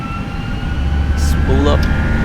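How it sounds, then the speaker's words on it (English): Jet engines of an FSLabs A32X airliner spooling up for the takeoff roll in a flight simulator, a steady low roar and rising hum sustained throughout, with a voice talking over it. "And the takeoff roll is on. Spool up,"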